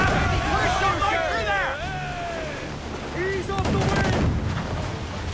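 Ship cannons firing in Assassin's Creed IV: Black Flag, heavy booming volleys and crackling blasts over rushing sea and wind, with shouting crew voices mixed in.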